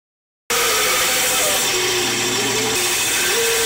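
After a moment of silence, a bandsaw starts up and runs loud and steady, its pitch shifting slightly as the blade cuts a wooden bowl blank.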